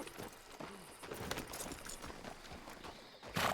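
Horse hooves clip-clop in Red Dead Redemption 2: a loose, rapid patter of hoofbeats under a dense, noisy game soundscape, without speech, ending on a louder burst.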